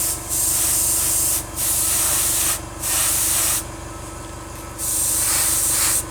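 An airbrush lays a light mist coat on a 1/72 Zvezda Mil Mi-24P Hind model, a steady close hiss in four long bursts separated by short pauses, with a faint low hum underneath.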